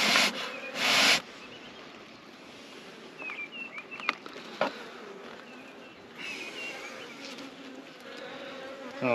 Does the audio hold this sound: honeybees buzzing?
yes